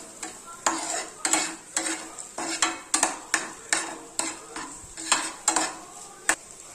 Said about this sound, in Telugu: దీన్ని బాగా ఫ్రై చేయాలి